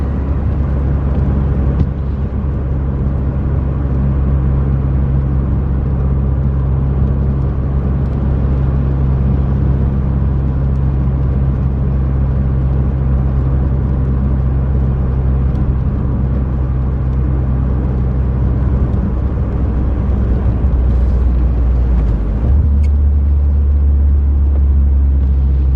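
A car with seven-year-old tires drives around a corner on a wet road, steady loud low engine rumble and road noise from inside the cabin, constant for the whole stretch, with a shift in engine tone near the end.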